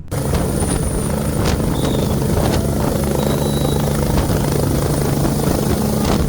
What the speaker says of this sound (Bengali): সামনে থেকে এই হেলিকপ্টারের শব্দ বাতাস আপনি অনুভব না করলে বুঝতেই পারবেন না